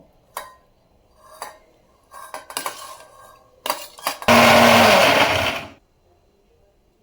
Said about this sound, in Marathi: आता आपण तो मिक्सरच्या भांड्यात टाकू।